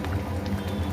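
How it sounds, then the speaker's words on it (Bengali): Fish curry gravy for pabda macher chorchore bubbling in a pan, a steady low burbling boil, close and fairly quiet, with no voices. "ঝোলটা ফুটে উঠেছে, এখন ফ্রাই করা মাছগুলো আমি একে একে দিয়ে দিচ্ছি।"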